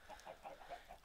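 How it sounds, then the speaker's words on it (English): Chickens in the Minecraft video game cluck softly in a short series of quick, evenly spaced clucks, faint and close, with no talking. "I guess I don't really need the chickens on me, do I?"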